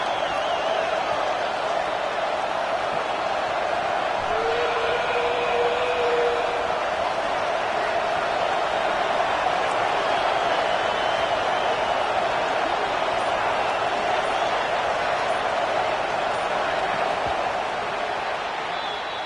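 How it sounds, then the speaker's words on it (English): A stadium crowd roars in a college football video game between Kentucky and Texas A&M during a red zone defensive stand, producing a steady, dense wall of noise that holds at one level throughout. "here comes the noise. This crowd is trying to inspire this defense to make a big red zone stop."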